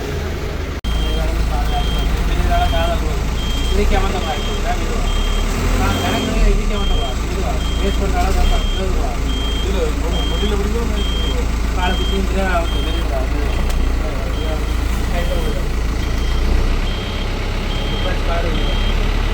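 A heavy truck driven during heavy vehicle licence training in Jaffna gives a steady, evenly spaced reversing beeper over a loud, continuous engine rumble, with people talking throughout.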